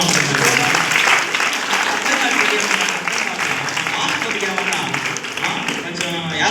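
Congregation clapping at a church sermon, a dense continuous round of applause from women in the audience with voices mixed in.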